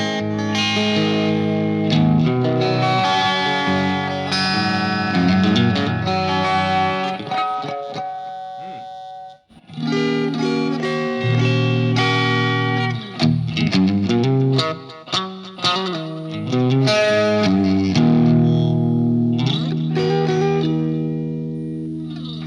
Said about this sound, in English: This amp is really great for clean sounds as well, so I'm going to roll back my guitar volume and switch to neck and middle position.